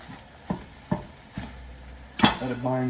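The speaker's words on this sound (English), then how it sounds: "I think I'm just gonna mix it in here and let it bind to" Creamy cheese is stirred into food in a pan, with several distinct metallic knocks and scrapes of a utensil against the pan. A brief tonal hum follows at the end.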